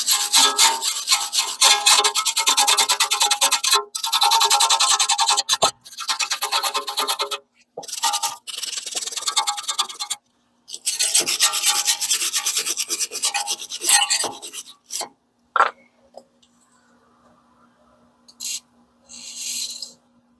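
Ends of the front hub bolts on a BMW X5 E70 being cleaned up by hand, with bursts of harsh, close scraping and rasping strokes separated by short pauses, tapering into a few isolated scrapes near the end.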